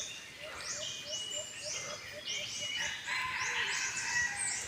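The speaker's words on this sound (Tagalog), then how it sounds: "maganda yung tilaok ng ligaw" Several wild junglefowl roosters call in repeated rising crows at mid distance in the mountains, overlapping one another against a steady outdoor background.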